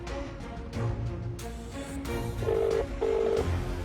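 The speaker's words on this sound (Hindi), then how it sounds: "रिंग जा रही है" A telephone ringback tone pulses twice in steady bursts over a low background murmur, heard as a call waits to connect.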